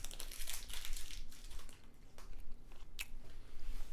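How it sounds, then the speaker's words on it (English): Close, steady chewing of a granola bar, with crunchy bites and mouth noises repeating throughout, alone without talk. "I don't want you to hear me chew."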